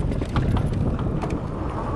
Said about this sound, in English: we've got 35 to 40 mile an hour gusts of wind at the moment